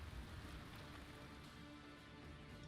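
Rain weather effect in the card game Gwent, a short burst of steady pattering rainfall, fairly faint and with no voices.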